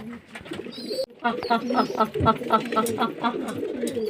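Domestic pigeons kept in a loft coo repeatedly, close and fairly loud, in a steady run of throaty calls.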